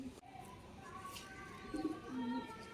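A young pigeon in a loft gives soft, low coos, faint and close, repeated a couple of times near the end over quiet background noise.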